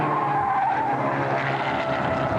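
Classic race cars lapping the Silverstone circuit in a 1994 Phoenix Petroleum Challenge race, their engines a continuous mid-distance roar with a droning whine that holds steady throughout, no voices over it.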